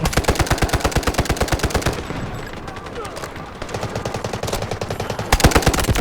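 Automatic gunfire in Delta Force Mobile, with rapid bursts at the start and end separated by a quieter stretch of scattered shots and game noise, loud and close.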